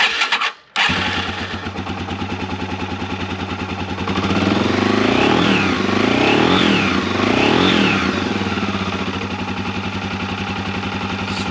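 A Yamaha TW200 motorcycle cranks briefly and fires up in cold weather, then settles into a loud, steady single-cylinder idle with a few blips of throttle raising the revs, close by and without speech.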